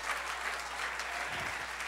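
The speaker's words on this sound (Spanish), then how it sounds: "Denle el aplauso a Jesús" A short burst of dense clapping from a church congregation, loud and steady throughout.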